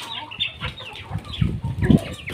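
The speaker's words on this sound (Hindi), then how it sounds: "इन्हें मैं समोसा डाल दूँ मुर्गियों को" Backyard chickens clucking while pecking at samosa pieces, a run of close, irregular short clucks and scratchy calls that grow louder and denser toward the end, no talking.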